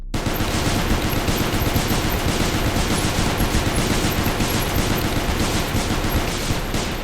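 Sustained automatic gunfire in the game Space Station 14, about fifty bullets fired in a dense, unbroken, loud stream of shots lasting around seven seconds.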